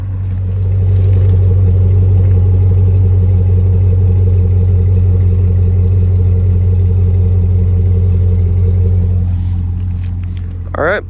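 A 2002 GMC Yukon XL Denali with 270k miles and a lit check engine light runs steadily, its deep, loud engine rumble holding even for the whole stretch before a brief rise near the end.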